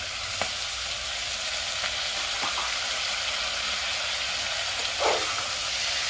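Potatoes and tomatoes for a basmati rice and moong dal khichdi fry in a pan, giving a steady close sizzle and hiss with a few faint stirring knocks.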